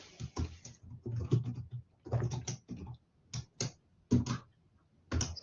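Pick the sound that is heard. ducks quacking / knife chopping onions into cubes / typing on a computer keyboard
typing on a computer keyboard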